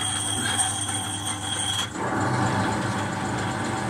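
A Harrison L6 metal lathe spinning at 100 RPM, a steady close mechanical whir and hum with a brief dip in the middle before it resumes slightly heavier.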